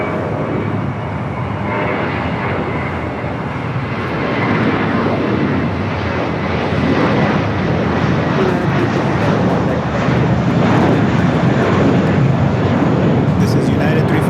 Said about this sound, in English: This is United 357 going to Seattle on an Airbus A320